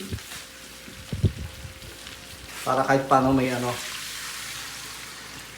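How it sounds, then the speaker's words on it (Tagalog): Water is poured into a hot pot of pork kaldereta, giving a loud hissing sizzle that swells for about a second and then settles into a steady simmer, with a person talking just before. "Ngayon naman maglalagay tayo dito ng tubig."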